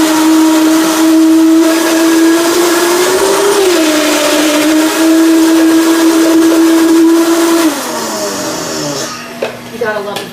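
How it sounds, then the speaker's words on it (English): Vitamix blender whirring at high speed through thick condensed-milk mixture, a loud steady motor whine that dips briefly, then drops in pitch and winds down near the end, with brief talk over it. "Excuse the Vitamix."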